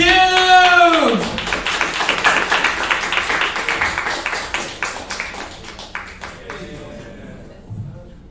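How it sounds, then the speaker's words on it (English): Comedy club crowd at a live dating show claps for the host after a loud voice trails off, a dense patter of hands filling several seconds before fading, with a voice returning at the end. "give it up, start clapping for your host this evening"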